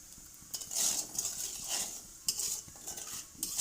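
Black cumin seeds dropped into oil left from frying pabda fish, a brief sizzle mixed with a spoon scraping and clinking against the pan in short bursts, close and fairly quiet, with no voices.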